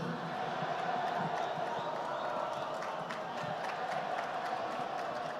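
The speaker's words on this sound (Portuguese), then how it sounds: "Quero agradecer as palmas e as vaias." An outdoor crowd at a Porto Alegre statue inauguration for Grêmio's Renato Gaúcho applauds and boos the mayor, a steady wash of clapping and scattered shouts holding at moderate volume throughout.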